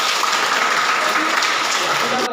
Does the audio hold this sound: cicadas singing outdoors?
no